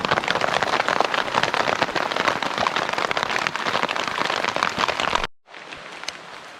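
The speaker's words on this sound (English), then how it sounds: "Rain's coming down." Heavy rain pouring down in a Canadian backcountry forest during a thunderstorm, a dense steady hiss of drops on leaves and surfaces that cuts abruptly to a quieter patter near the end.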